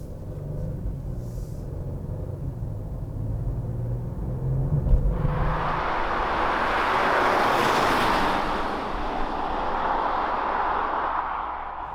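A Genesis G70 (2019) on the move: low engine rumble at first, then a swelling broadband rush of road and wind noise as it gathers speed, steady and fairly loud, with no speech.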